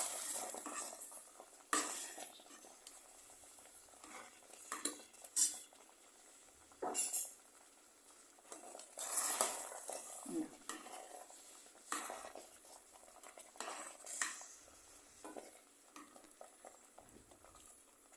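A spoon stirs pachoru in a pot after fried cashews and raisins are added, giving intermittent scraping and clinking strokes at close range amid quiet pauses.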